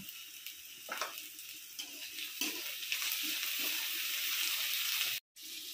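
Slit green chillies hit hot oil in a pan with chopped onion for a Bengali mutton curry, giving a steady close sizzle with a few stirring scrapes and a brief cut near the end.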